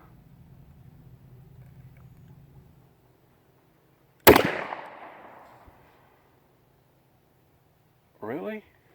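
A shotgun loaded with Herter's shells fires a single sharp, loud blast outdoors that decays over about a second. Low murmuring comes before it and a short voice follows.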